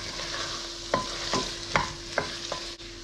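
Potatoes frying with already sautéed onions in a pan, a steady close sizzle broken by about five distinct scraping stirs at a slow, irregular rhythm, with no voices.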